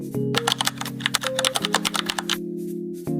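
Fast typing on a computer keyboard entering a search into Google, a quick dense run of clicking keystrokes over a faint steady hum, then a brief pause and a few final taps.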